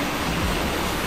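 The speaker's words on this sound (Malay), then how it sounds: "Hujan lebat lah tu." Heavy rain pours down outdoors, a dense, constant hiss of falling water that fills a short moment with no voices.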